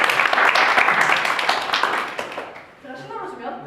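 An audience bursts into brisk, lively clapping as a volunteer is called up onto a stage, close and loud at first, then thinning out and fading as a voice begins talking.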